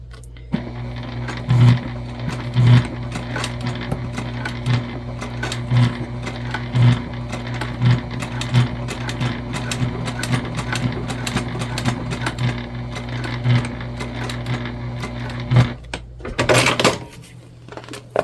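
A sewing machine stitches the flap onto a bucket bag, a continuous mechanical hum with repeating clicks and knocks, pausing near the end with a brief handling rustle.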